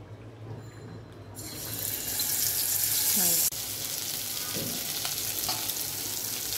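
Tengra fish is added to hot oil in a kadai, and the frying flares into a loud, bright, continuous sizzle that stays strong after a sudden dip, with a faint voice underneath.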